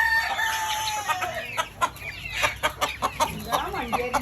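Hens clucking and a rooster crowing on a small poultry farm, several birds calling close by in a busy, irregular run of short squawks and clucks with no one talking.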